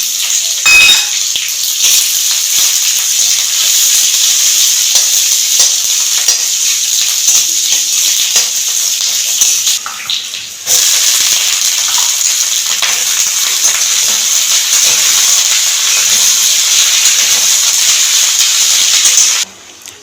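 Chopped onions frying in a hot pan on a home stove give off a steady, loud sizzle and hiss that runs almost unbroken for about twenty seconds, with a brief dip and a few soft clatters from stirring.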